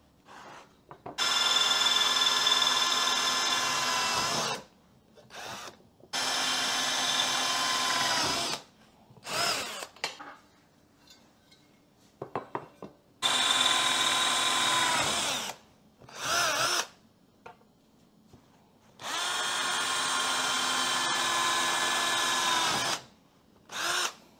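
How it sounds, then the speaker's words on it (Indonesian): A power drill boring through the ends of a 3 mm thick, 3 by 3 cm aluminium angle, loud high whining bursts of several seconds each, separated by short quiet pauses. "Oke, kita bor aja ujung-ujungnya."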